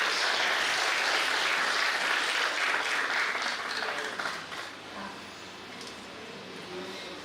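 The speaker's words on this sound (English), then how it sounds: "A big applause for them." Audience applauding presenters at an academic symposium in Varanasi, dense sustained clapping that fills the room, then thins and fades to a softer patter toward the end.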